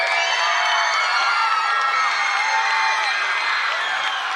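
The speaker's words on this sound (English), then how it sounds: "Give her another round of applause," A crowd at an elementary charter school graduation cheers, whoops and applauds in a loud, dense, continuous roar, with many high children's voices shouting together throughout.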